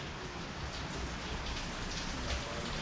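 Steady rain falls outdoors on a rainy day in the Philippines, a dense, even patter of drops hitting surfaces that carries on unbroken and with no voices heard.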